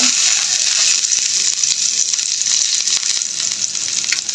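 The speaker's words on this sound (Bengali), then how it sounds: "তো আমি এখন প্যানে পেঁয়াজটা দিয়ে দিব," Onion fries in a pan, producing a loud, continuous bright sizzle close up with small crackles and stirring throughout.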